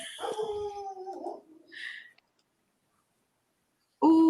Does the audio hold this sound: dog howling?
yes